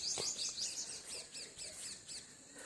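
Various birds sing in a calm morning setting, rapid repeated high chirps and whistled phrases in quick bursts, moderately near, layered over a soft ambient background with no talk.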